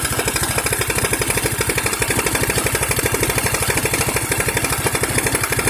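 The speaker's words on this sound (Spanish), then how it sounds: "Si escuchan, el motor se quiere apagar." A Honda Beat 100cc scooter with an AT110 carburetor idles close by in a steady, rapid chugging pulse, running rough as if on the verge of stalling, with no voices.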